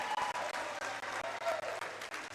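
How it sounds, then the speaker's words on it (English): Steady, sustained applause fills an indoor pool as a varsity swimmer touches the wall to finish a race against Attleboro, with the clapping broken only by brief dips. "The swimmer is going to get the wall and get some big applause"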